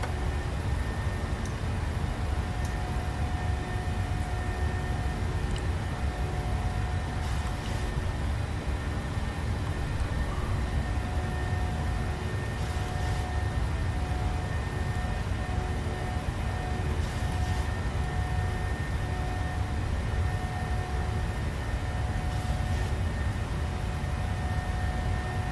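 Steady, loud broadband roar of Boeing 737 jet engines during takeoff in Microsoft Flight Simulator 2020, departing on a visual crosswind runway with flaps up. The drone stays even throughout, with faint tonal whines and no talking.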